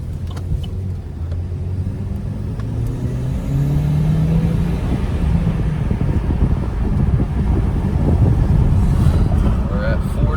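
A 2012 Buick Regal Turbo with a new PowerStop brake kit accelerates on the road. Its engine hum and road rumble hold steady and build gradually, with some wind noise and a voice talking over it.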